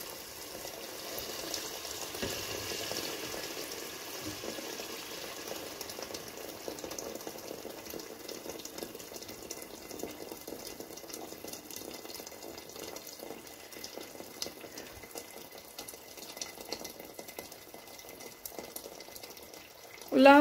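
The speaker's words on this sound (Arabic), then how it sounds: "ها هي غادي دير الماء" Hot water poured into a pot for Moroccan harira soup, a steady, faint splashing pour running close by under low background noise, ending with a brief louder knock.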